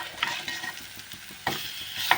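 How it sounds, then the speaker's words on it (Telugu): Tamarind, dried red chillies and dry coconut roasting in a pan, with soft crackling sizzle and a few scraping stirs, close and fairly quiet, no talking. "చింతపండు కూడా కొంచెం ఇలా వేగితే"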